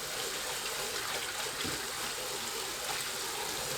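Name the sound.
water dropwort rinsed under running tap water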